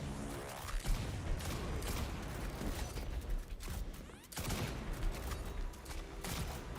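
Rapid gunshots crackle in a shooter video game, dense bursts of firing and mechanical clatter running continuously at moderate level with a brief dip partway through.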